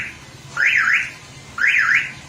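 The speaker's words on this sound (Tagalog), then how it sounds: "transformer bands, tulisyon, car alarm, locator" A car alarm fitted in a van sounds its rising and falling warble twice, each burst clear and fairly close, with a lower steady tone between them.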